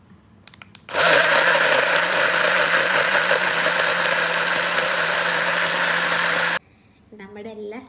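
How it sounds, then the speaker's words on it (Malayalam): A kitchen blender purees cut mango into pulp, running as a loud, steady whirring roar for about five and a half seconds before cutting off abruptly, with brief clicks before it starts and faint sounds after it stops. "ഇനി നമുക്ക് കുറച്ച് മാംഗോ പൾപ്പ് അടിച്ചെടുക്കാം."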